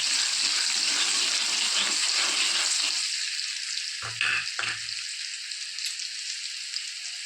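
Chopped onion hitting hot oil for a spicy winter vegetable dish, a steady loud sizzle and crackle of frying that continues throughout, with a couple of brief clattering stirs or pan knocks partway through; no talking.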